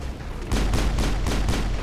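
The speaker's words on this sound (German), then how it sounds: "Oh, wir haben geschossen" Gunfire in the video game Mass Effect: after a quiet half second, a loud, close burst of four or five heavy shots lands in a quick, regular rhythm.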